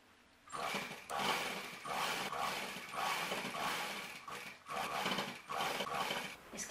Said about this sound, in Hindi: इसके किनारे से सिलते हुए हम इस तरह से इसको निकाल के लाएंगे